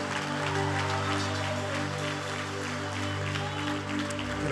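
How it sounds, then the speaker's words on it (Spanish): A church congregation claps together with joy, a dense, steady wash of applause that continues throughout over sustained keyboard or organ music. "se lo va a aplaudir, hágalo con gozo."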